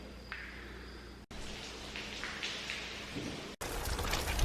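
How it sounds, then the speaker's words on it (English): Steady rain falls outdoors in a neighborhood, a continuous close hiss of drops interrupted by two abrupt cuts. "more rain"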